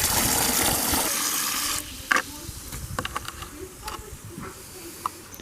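Water pours and splashes into a bucket to dilute compost tea for tomato plants, a gushing rush at first, then dripping, sloshing and scattered clinks as the flow stops, close up and without speech.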